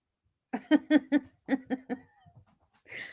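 A dog gives a quick run of six or seven short, sharp yelping whimpers up close, followed by faint breathy huffs and a brief panting rasp at the end.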